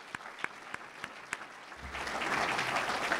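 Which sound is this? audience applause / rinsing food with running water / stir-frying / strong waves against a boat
audience applause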